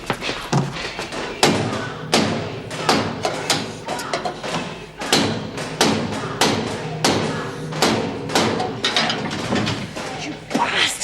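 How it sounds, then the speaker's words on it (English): Banging and thumping from a prison riot fill the scene, with repeated heavy thuds and knocks at an irregular rhythm, loud and close, mixed with shouting and voices throughout. "Sounds like another riot."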